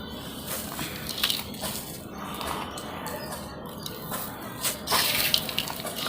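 Soil and compost worked together by hand for planting bean and cluster bean seeds, giving a steady gritty crunching and rustling that stays close and fairly even throughout, with no talking.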